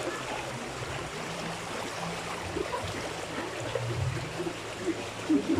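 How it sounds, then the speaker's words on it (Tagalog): A creek flooded by heavy rain rushes past in a strong current, giving a constant broad roar of moving water at moderate volume, with no voices. "Ang lakas ng agos ng sapa."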